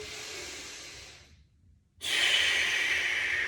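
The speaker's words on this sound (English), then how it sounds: "just hold this for 3 deep breaths. In through the nose," Slow, deep breathing during a shoulder stretch: a long airy inhale fading into a brief pause, then a strong rush of breath starting again, close and alone without speech.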